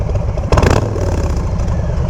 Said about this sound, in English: Rev from the right, rev from the left.